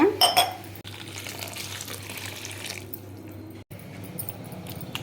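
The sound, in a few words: washing dried shrimp shells in water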